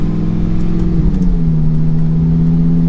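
A crashed, partly rebuilt Lamborghini Gallardo's engine hums steadily at low speed down a street, its pitch dipping once as the transmission shifts, with no voices present.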